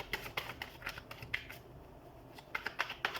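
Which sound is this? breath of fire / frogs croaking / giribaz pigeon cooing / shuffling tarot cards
shuffling tarot cards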